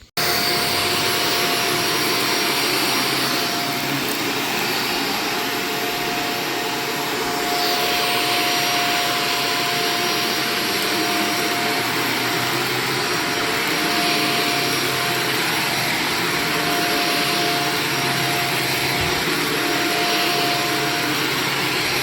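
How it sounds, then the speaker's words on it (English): A vacuum cleaner runs continuously over a sticky, grimy, heavily soiled carpet, a loud close whine with a steady high tone that shifts slightly as the head moves, no voices. "So without further ado, let's get to vacuuming."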